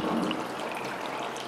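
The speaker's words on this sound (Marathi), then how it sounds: "त्या ढोवामधून असं हे पाणी येतं आहे." Water streams steadily from a small artificial waterfall built into a Ganpati festival decoration, a soft continuous splashing and trickle heard alone.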